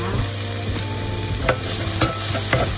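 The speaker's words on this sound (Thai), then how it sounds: "ไม่รู้จะออกมาเป็นยังไงแต่ก็ต้องลองค่ะ" Crushed chinda chili and garlic stir-fry in a hot pan with a loud, continuous sizzle, broken by several sharp scrapes and knocks of the stirring utensil, with no talking.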